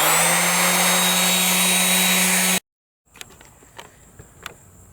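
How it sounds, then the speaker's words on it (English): Electric sander working a wooden nightstand: a loud, steady high-pitched whine for about two and a half seconds that cuts off abruptly, followed by a few faint knocks and taps. "Now I'm going to sand this."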